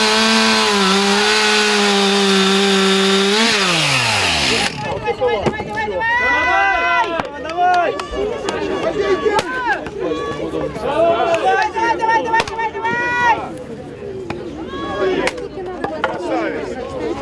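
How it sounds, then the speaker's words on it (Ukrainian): At an outdoor sports contest, a team carries a log, measures it, saws it and splits it into quarters. A chainsaw whines loudly at first, then chopping and crowd shouting follow, with a commentator talking over it. "Донести колоду, відміряти, відпиляти, розрубати на четверо."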